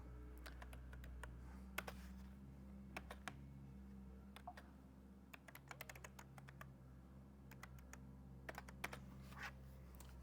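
Keys clicking on a small cute Bluetooth keyboard, in scattered bursts of quick taps with short pauses between them, close and fairly quiet over a steady low hum.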